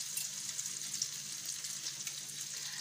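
Spanish omelette mixture cooking slowly in a pan over low heat, a soft, steady sizzle heard close up with no voices.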